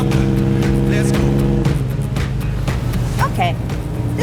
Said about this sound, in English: this is my first time driving this Lancia Aurelia